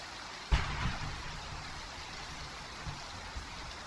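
Rain in the PUBG test server game, a faint, steady hiss of falling water with a couple of soft thuds, no voices.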